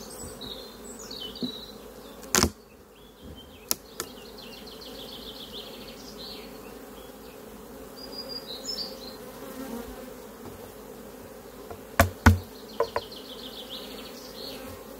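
Honeybees hum steadily around an open beehive during a spring honey harvest, a low continuous drone with a few brief clicks and knocks from handling the hive boxes.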